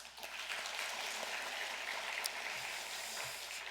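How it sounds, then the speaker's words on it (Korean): A church congregation applauds after a hymn of praise, producing a faint, steady wash of distant clapping that sounds almost like rain, with no distinct individual claps. "박수 한번 하겠습니다"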